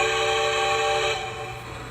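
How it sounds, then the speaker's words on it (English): A Lionel LionChief Plus 2-8-4 Berkshire model locomotive sounds its steam whistle, a steady, sustained multi-tone chord held loud and close before tapering off, with no talking. "There's the whistle"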